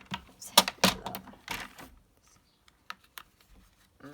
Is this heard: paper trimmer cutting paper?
yes